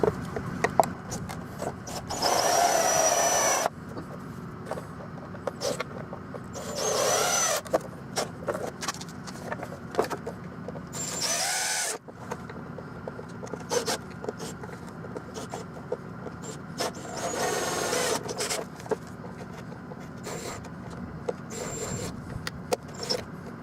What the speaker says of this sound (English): There's those little plastic rivets. So we're gonna just drill them out.